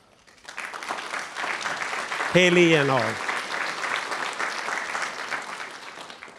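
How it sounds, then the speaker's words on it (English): Sustained audience applause at a university startup competition kick-off, many hands clapping steadily for several seconds while a voice briefly speaks over the middle of it. "And you should applaud them as well."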